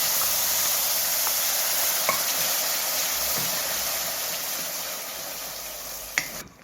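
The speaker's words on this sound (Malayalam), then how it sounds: "ഇനി ഇതിലേക്ക് നമ്മൾ ഈ അരച്ച് വെച്ചിരിക്കുന്ന ഉള്ളിയുടെ പേസ്റ്റ് ഇട്ടിട്ട് വഴറ്റി കൊടുക്കാം" Ground onion paste sautés in a hot pan with a steady, hissing sizzle, punctuated by a few light spoon taps and a sharper clatter near the end, heard close and without talking.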